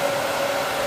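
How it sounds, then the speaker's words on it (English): An ELCHIM blow dryer, strong and old-school, blows hot air with a loud, steady whooshing roar and a faint tonal whine, heard alone. "It's just a really nice, kind of strong, old school blow dryer."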